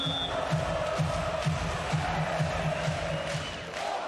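A beach volleyball crowd at a world championship match roars and cheers steadily, a dense wash of voices at a distance, with a rhythmic thumping of clapping or drumming running underneath.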